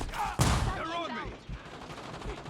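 Gunfire in the video game Warzone: a sharp loud burst of shots, followed by trailing echoing reports and a few scattered fainter shots.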